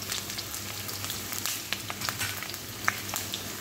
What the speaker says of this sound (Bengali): এই যে আলুটা ভেজে তুলে নিয়েছি